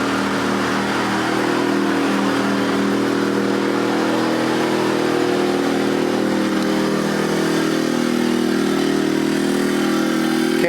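A portable generator runs wide open at full load beside a Geo Pro 19FBS travel trailer fitted with an EasyStart 364, giving a loud, steady engine drone that holds level throughout without pauses.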